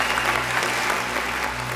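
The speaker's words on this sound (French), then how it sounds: "on t'applaudit déjà" An audience at the FEMUA festival stage applauds in steady, dense clapping, a continuous wash of hands close and even throughout.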